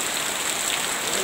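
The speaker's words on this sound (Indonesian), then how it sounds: "Airnya deras sekali." Rushing flash-flood water in a village in Grobogan, Central Java, a steady broadband roar of fast-flowing water that fills the whole clip at a constant level, close and unbroken, with no voices.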